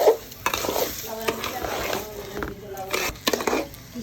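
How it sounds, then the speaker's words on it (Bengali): Polao rice being stirred in a cooking pot for chicken biryani, with repeated scraping and soft sizzling strokes at close range, and a few faint clinks of utensil against metal. "এখন পোলার চালটা দিয়ে ভালোভাবে নাড়বে।"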